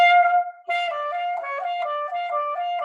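Saxophone playing a quick run of wavering notes after a short opening tone, the pitch sliding and stumbling between steps as fingers lift far off the keys; close, loud, solo, no talking.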